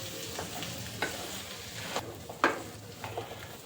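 Kakoda (wild bitter gourd) and onion sabzi cooking over medium heat, with a low, steady sizzle broken every second or so by the scrape of a spoon stirring the pan.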